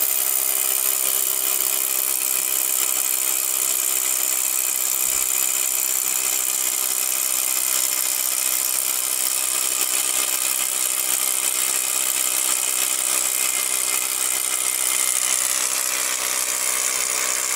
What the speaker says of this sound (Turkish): Hadi bakalım oradan şimdi hiltiyle oradan ne yapacak?